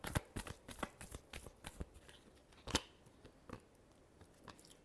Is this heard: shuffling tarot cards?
yes